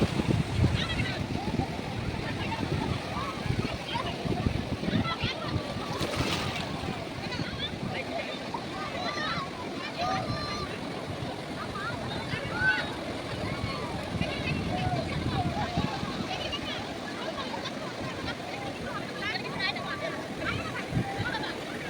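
Sea waves at Digha beach wash and break in a steady continuous roar, with wind and water sloshing throughout and a voice talking over the surf.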